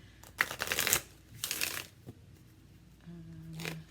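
Tarot and oracle cards being shuffled and drawn by hand, giving several close riffling bursts separated by quiet gaps, with a brief soft tone near the end.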